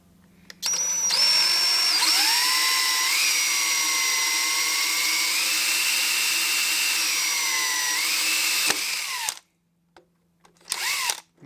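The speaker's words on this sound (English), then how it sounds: "going to swing this down out of the way while I drill these holes" A drill press bores holes into a hollow metal casting, a loud sustained motor whine with shifting pitch as the bit cuts, stopping abruptly, followed by brief handling noises.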